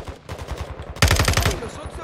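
Automatic gunfire in a Call of Duty match: rapid distant bursts rattle first, then a loud close burst of fast shots erupts and fades.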